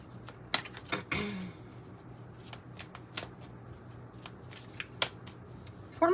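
Tarot cards being shuffled close up, a soft riffling rustle with a few sharper snaps and flicks scattered through, no talking.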